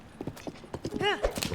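Horse hooves clip-clop steadily along a road in Zelda: Tears of the Kingdom, a rhythmic series of light thuds under a voice, with a brief musical chime partway through.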